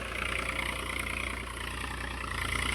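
A modified New Holland 3032 tractor engine runs steadily at idle, a close, continuous low mechanical drone with no talk over it.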